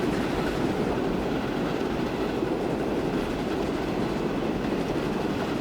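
A train runs on rails in the video game Transport Fever 2, a loud, steady, dense rolling rumble with clickety-clack wheel noise that carries on without pause and with no talking.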